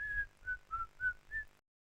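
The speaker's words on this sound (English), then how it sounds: "that whistle is from that song" A whistled five-note hook like the one in a song, short pitched notes in an even rhythm over a low thumping beat, clear and fairly close.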